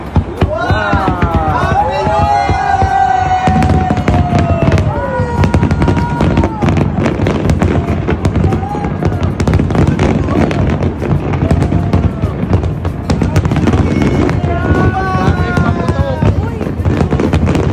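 Booming New Year fireworks over Dubai, a continuous run of loud cracks and bursts under an excited crowd and people talking close by.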